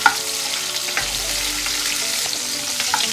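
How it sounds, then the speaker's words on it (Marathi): Cashews and peanuts frying in hot ghee, a dense close sizzle with light crackling pops and soft stirring over a low background hum, brief and continuous without talk. "आता ह्याच्यात आपण काजूगर आणि शेंगदाणे हे जरा छान आता आपण परतून घेऊया।"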